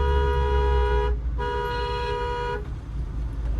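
A loud, sustained car horn blares close by at an e-rickshaw ahead in a narrow lane, broken by a short pause and then held again, over steady engine and road noise.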